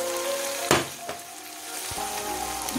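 Vegetables sizzle in a pot for vegetable biryani, a soft continuous frying hiss broken by a few sharp spoon or lid clinks nearby.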